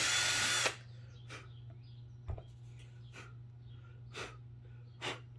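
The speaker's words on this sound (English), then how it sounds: "I'm going to drill both holes just to show you." A loud power drill whirs briefly at the start, drilling into an Aerofoam L-39 model aircraft, and then stops, followed by a few quiet thumps and breathy puffs in an otherwise quiet room.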